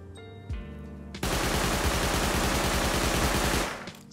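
A custom SMG fires one sustained rapid burst in the video game Rust, evenly spaced loud shots for about two and a half seconds after a brief click and thump, then tailing off, no voice.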